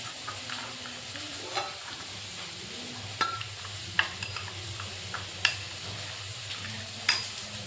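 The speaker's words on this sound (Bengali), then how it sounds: "লাল লঙ্কার গুঁড়ো ও হলুদ গুঁড়ো একটা বাটিতে জল দিয়ে গুলিয়ে নিলাম।" A spoon scrapes and clinks against a bowl while red chili and turmeric powder are stirred into water, giving soft, sparse taps and knocks over a quiet background.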